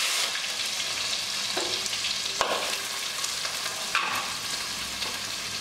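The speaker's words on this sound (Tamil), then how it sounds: "இப்போ எண்ணெய் நல்லா காஞ்சிருச்சு கடுகு சீரகம் போட்டு சாப்பிட்டுக்கலாம்" Onion, mustard seeds and cumin fry in hot oil for a Chettinad chicken masala, giving a steady close sizzle with a few brief stirring scrapes.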